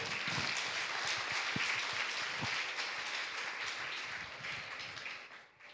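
A church congregation at a Sunday worship service claps together, a broad wash of applause with a few sharper hand claps standing out, holding steady before thinning toward the end.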